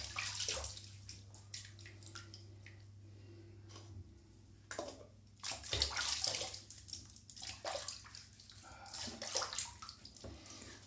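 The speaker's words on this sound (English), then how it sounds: "Just rinsing my face." Water splashes irregularly as a man rinses shaving cream off his face after shaving, with scattered close, moderately loud bursts of splashing and dripping over a quiet room hum and brief pauses between handfuls.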